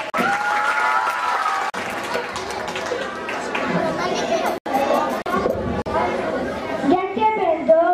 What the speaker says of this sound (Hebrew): קבלו אותם במחיאות כפיים